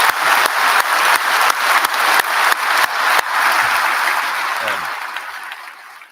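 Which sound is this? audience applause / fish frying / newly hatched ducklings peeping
audience applause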